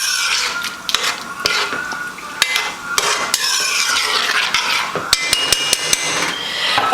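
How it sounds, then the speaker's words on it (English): A spoon scraping and knocking in a pot of corned beef with tomato sauce, giving a steady scraping with sharp metallic clicks and taps scattered throughout, close and fairly loud. "let me just mix this up a little bit"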